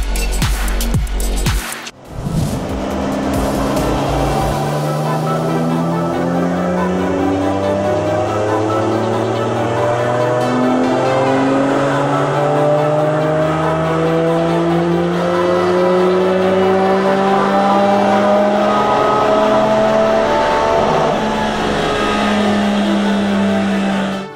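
A Porsche 718 Cayman GT4 RS engine on a chassis dynamometer roars continuously, high-revving, its pitch sweeping upward again and again as it climbs through the rev range, loud and close.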